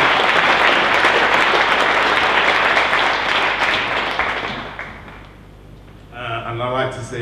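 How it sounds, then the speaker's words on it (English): Audience applause at Paradiso greets the performers, a dense sustained clapping that rolls loud for several seconds, thins out, then swells again briefly near the end with a voice over it. "Can we give a round of applause for all the artists that have been on stage so far?"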